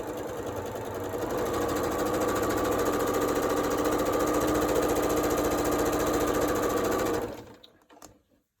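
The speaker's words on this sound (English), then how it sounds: "you are sewing on the bias, so don't stretch. Just feed it through and let your machine do the work." A sewing machine stitches bias-cut fabric in a steady, fast mechanical whir that runs loud and continuous for about seven seconds, then stops abruptly.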